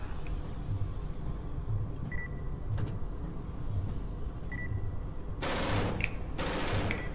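Turret gunfire in a video game comes as rapid automatic bursts, two loud volleys near the end over a low, steady engine-like rumble, with faint mechanical clicks scattered throughout.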